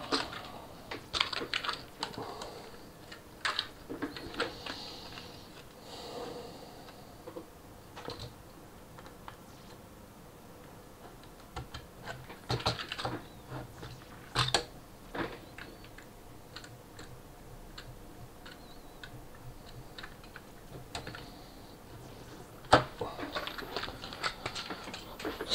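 Typing on a wired keyboard hooked up to an Atari 600XL, with irregular bursts of key clatter that start and pause across the whole stretch at a fairly close, moderate level and no talking.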